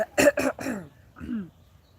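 Three sharp coughs in quick succession, close and fairly loud, followed by a softer throat-clearing sound.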